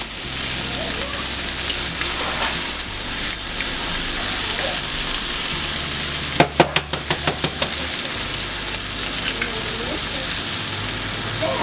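Two eggs hitting a pan of cooked-down spinach set off a loud, steady sizzle, broken midway by a quick run of sharp crackles and pops from the hot fat.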